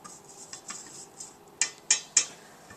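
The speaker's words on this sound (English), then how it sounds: "So mix this pretty well because otherwise you're going to get an uneven paste in your cake." A utensil scrapes and knocks against a bowl while sugary cake paste for a Yule log is stirred, soft rubbing strokes giving way to three sharp clinks near the end, close and alone.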